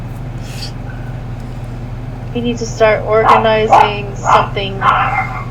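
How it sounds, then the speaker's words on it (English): Dogs yip and bark in the background of an indoor space, a cluster of sharp high barks in the second half rising over a steady air-conditioning hum, while a voice talks nearby. "Sorry about the dogs."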